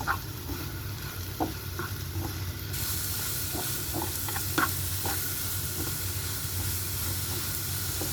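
Carrots stir-frying in a hot pan for spring rolls give a steady close sizzle and hiss, broken by scattered scrapes and taps of a utensil stirring them, with no talk.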